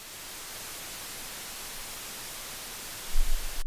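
An 8-bit synth patch generates steady white noise: an even, continuous hiss that holds level throughout, with a short low thump near the end.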